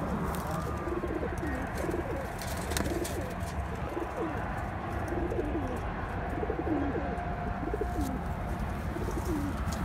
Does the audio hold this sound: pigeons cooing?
yes